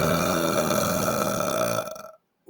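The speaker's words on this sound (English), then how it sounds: "I like to burp, okay? I like to belch, okay?" A single loud, drawn-out belch lasts nearly two seconds, heard up close and alone before it cuts off abruptly into silence.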